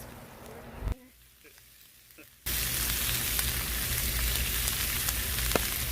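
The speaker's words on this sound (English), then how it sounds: "let you listen to the sizzle" Loud, steady sizzling fills most of the clip after a brief quieter stretch, a dense crackling hiss of ribeye steak searing in a hot pan, close up.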